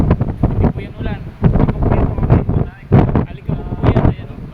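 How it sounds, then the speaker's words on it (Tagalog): Strong wind gusting hard and blowing dust and sand outdoors, roaring continuously against the microphone in loud buffeting waves while someone talks over it. "Ayan o, malakas pa rin yung hangin."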